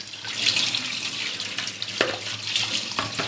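Red lentils being washed under a running kitchen tap, a steady close rush of water splashing into a sink with faint swishing as the grains are rinsed, with no talk.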